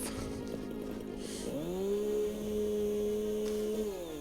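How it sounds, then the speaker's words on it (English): A chainsaw revs in a video game, a steady droning engine whine that rises in pitch and then holds, faint and alone with no talk over it. "the chainsaw tends to nuke a whole bunch of stuff"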